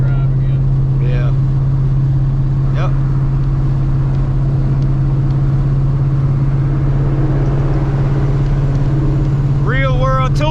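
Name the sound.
car with Kenne Bell 3.2 supercharger doing transmission pull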